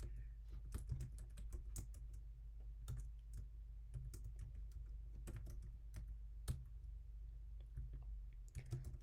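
Computer keyboard typing in steady bursts of close, crisp key clicks over a low constant hum, with a few louder isolated keystrokes.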